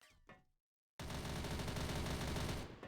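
Gunfire in a shooter video game: a short burst of shots, a brief silence, then a loud continuous rattle of rapid automatic fire that runs to the end.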